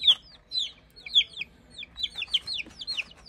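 A backyard flock of chickens clucks and chirps in quick, irregular bursts, several birds calling close by at moderate volume with short gaps between calls and no voices.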